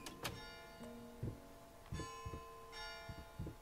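A doorbell chimes inside a house in the horror game Layers of Fear, with ringing bell tones over quiet thuds and creaks, fairly faint and spread across several seconds.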